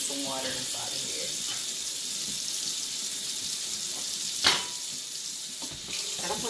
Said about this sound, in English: I'm actually going to put some water inside of here.